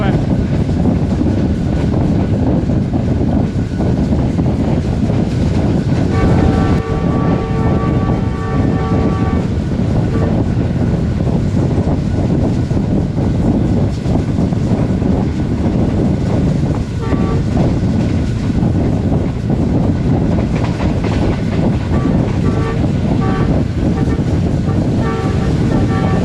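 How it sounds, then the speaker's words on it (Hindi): A train runs through Chichawatni railway station between Bahawalpur and Lahore, a continuous loud rattle and rumble with wind buffeting and a brief horn-like tone partway through, while someone talks over it. "ट्रेन हमारी इस वक्त चीचावती रेलवे स्टेशन से पास थ्रू हुई है"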